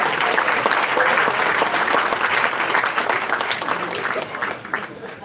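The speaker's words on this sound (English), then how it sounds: "Okay, a round of applause for the bouquet toss." Wedding banquet guests applaud the bouquet toss with steady, dense clapping throughout, fading slightly toward the end, with some voices mixed in.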